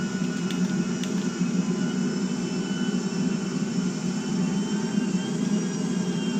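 A steady, loud jet-engine roar from an airplane in GTA 5 as the throttle opens for takeoff, a continuous broadband rumble holding constant for several seconds with no speech over it.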